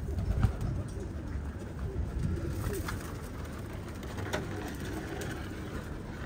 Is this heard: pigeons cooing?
yes